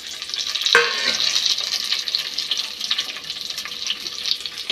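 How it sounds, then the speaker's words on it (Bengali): Pumpkin pieces frying in hot oil in a pan, after onion and black cumin have been fried and set aside. A steady close sizzle runs throughout, with a brief clatter near the start as the pieces go in. "এখন তেল দিয়েছি, দিয়ে দেব মিষ্টি কুমড়োটা।"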